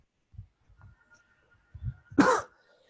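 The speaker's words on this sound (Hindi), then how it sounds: "देखो खांस भी रहा है।" A man coughs in a quiet room: a few soft throat-clearing coughs, then a louder, harsher cough near the end, close to the listener.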